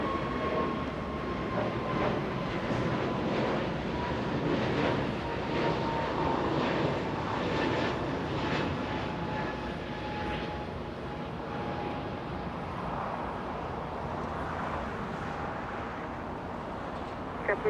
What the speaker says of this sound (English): This is two A350s, two Qatar Airways meeting up with each other.